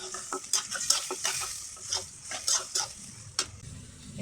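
Shrimp frying in oil in a pan with cabbage, tomato, potato, green chilies and chopped onion, sizzling steadily with stirring and scraping clatter throughout.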